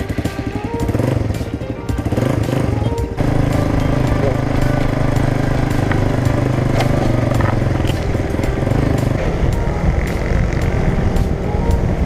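A Suzuki Raider R150 motorcycle engine runs steadily up close, its low rumble shifting pitch as it revs, with a faint voice underneath.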